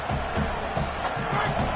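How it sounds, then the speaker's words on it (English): Football stadium crowd roaring against the offense at a college game, a dense continuous wall of cheering and yelling with rhythmic swells, loud and close throughout. "This crowd trying to make life miserable for this offense."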